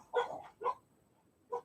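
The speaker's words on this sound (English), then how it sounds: "you two barking at each other now?" Two dogs in a home bark back and forth, three short, close barks with gaps between, no talking.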